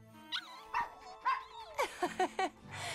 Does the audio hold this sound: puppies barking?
yes